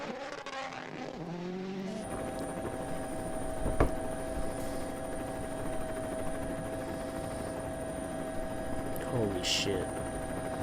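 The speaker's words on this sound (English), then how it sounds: "Holy shit, that helicopter's a little low." A helicopter flies low over a WRC rally stage, its steady rotor drone and engine hum running loud throughout, with rally car engine noise mixed in and a brief exclaimed voice.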